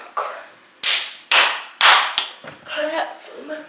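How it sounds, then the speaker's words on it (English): Sharp hand claps ring out in a college student's room, four loud separate claps spaced about half a second apart, followed by brief talk. "Clap."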